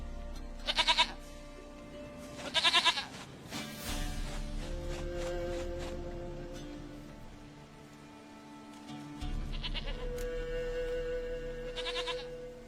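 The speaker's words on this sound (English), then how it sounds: "Goat of mine, dearest, sweetest goat." Goat bleating in two loud, wavering bursts early on, then fainter repeated bleats later, heard over steady rain and a low droning ambience with no talking.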